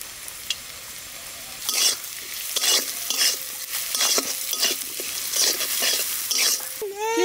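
Fried onions stirred in a pan as salt and turmeric go in, giving a steady sizzle broken by repeated scraping strokes of a spatula, close and fairly loud, with a brief voice at the end.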